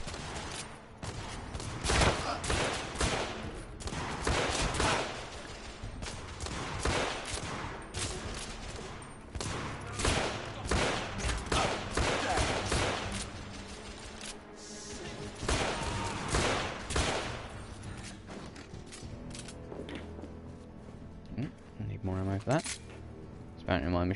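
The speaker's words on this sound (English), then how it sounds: "she's been blasting her machine gun the entire time" Rapid machine-gun fire in The Order: 1886 video game, dense bursts of shots and impacts running through the whole stretch while a person talks over it.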